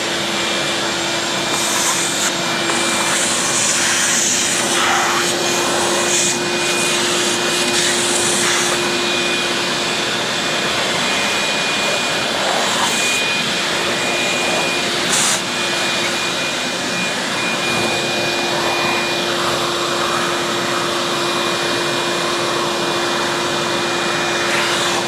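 A vacuum cleaner roars steadily and loud throughout, a constant whining suction drone with occasional brief clatters as it sucks up wood dust from a cutting board refurbishment.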